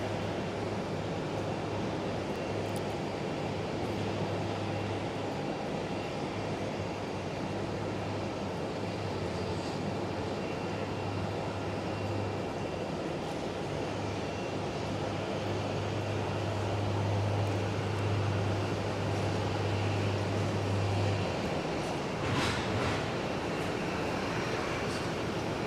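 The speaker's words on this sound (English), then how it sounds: "Here comes our JetBlue" A JetBlue airliner approaching Phoenix Sky Harbor during a storm, a steady broadband engine roar with a sustained low hum that holds for about twenty seconds before fading, with no voices.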